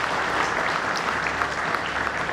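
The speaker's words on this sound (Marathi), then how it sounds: "त्यासाठी आपण टाळ्या वाजवायत सगळ्यांनी." Steady applause from an audience at an Engineers' Day function, a dense even patter of many hands clapping at moderate volume with no talk on top.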